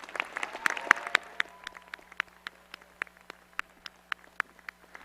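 Scattered, moderately faint clapping from a graduate commencement audience honoring award winners, with sharp individual claps spaced irregularly and thinning as the applause tapers off.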